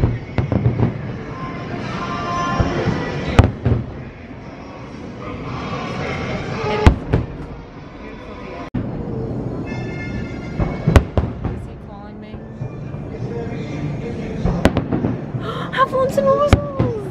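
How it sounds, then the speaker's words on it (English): Halloween fireworks at Disney World, seen from a BoardWalk hotel room, burst in repeated sharp bangs and crackling pops at a distance, with people talking between and over the explosions. "They're 180 fireworks."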